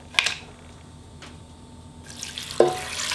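Tap water runs into a pot to make anchovy and kelp broth for potato sujebi, starting with a brief splash, then growing into a steady rushing pour with a louder gush near the end.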